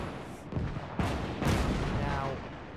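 Gunfire and artillery blasts ring out in a North Africa tank battle video game: several sharp, loud booms land about half a second apart, each trailing into a noisy rumble of battle, with no talking.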